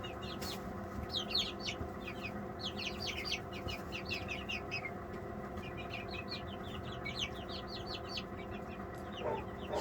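A naked neck hen among a flock of chickens, with soft repeated clucks and chirps in bursts over a steady low hum, fairly faint and distant.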